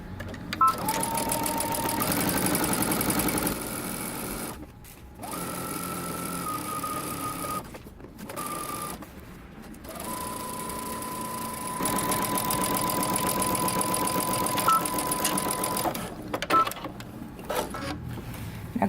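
A sewing machine stitches the side seams of a dress at regular stitch length, running in several sustained bursts with brief pauses between them, close and steady throughout.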